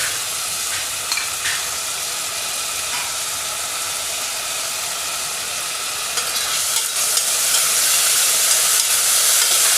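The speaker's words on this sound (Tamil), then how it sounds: "எல்லாத்தையும் லேசாக வதக்கணும்." Red and green capsicum sauté in a hot pan with a loud, continuous close sizzle and occasional stirring scrapes, the hiss growing slightly stronger near the end.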